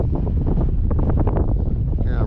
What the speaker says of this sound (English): Boy, is it windy.